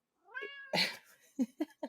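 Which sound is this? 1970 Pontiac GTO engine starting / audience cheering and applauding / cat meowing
cat meowing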